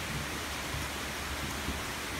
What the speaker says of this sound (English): I can't believe how hard it's raining.